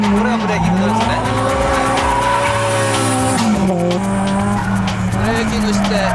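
A race car brakes hard into a drift, its engine roaring and tires squealing loudly and continuously, with a voice talking over the din.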